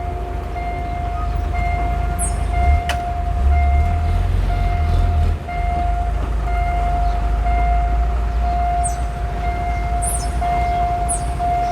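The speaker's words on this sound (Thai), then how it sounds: "ขบวนรถชานเมืองที่ 367กรุงเทพชุมทางชาเชิงเซา ผ่านจุดตัดทางรถไฟถนน" A commuter train rumbles past an RCA railroad crossing in Thailand with a steady low roar, while a crossing bell's tone rings continuously over it and a few faint chirps sound.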